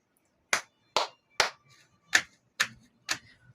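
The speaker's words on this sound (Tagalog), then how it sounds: "Palakpakan ang iyong sarili gamit ang isang palakpak na gagawin ko." Six sharp, separate claps, spaced roughly evenly about half a second apart, ring out crisply and close against an otherwise quiet background as part of a rhythmic clapping pattern during a lesson, with faint murmurs between them.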